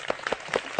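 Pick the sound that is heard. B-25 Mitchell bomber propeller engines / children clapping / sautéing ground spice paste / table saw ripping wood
children clapping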